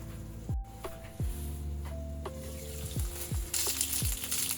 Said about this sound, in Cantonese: 而家兩邊都煎一陣，煎到佢金黃色、香噴噴，就煎好啦